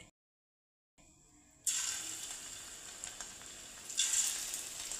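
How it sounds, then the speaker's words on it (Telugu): Cauliflower pakoda batter dropped into hot oil on a medium flame bursts into a loud, steady sizzle after a brief silence and a quiet hiss, the bubbling swelling again near the end, heard close with no voices. "ఆయిల్ బాగా వేడైపోయింది ఇప్పుడు మంటను మీడియం ఫ్లేమ్లోకి మార్చుకోవాలి ఇప్పుడు ఇందులోకి పకోడీని వేసుకుందాం"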